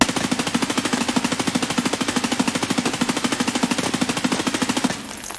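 Unsuppressed automatic gunfire from Escape From Tarkov rattles off in one long, rapid, evenly spaced burst, loud and close, cutting out just before the end.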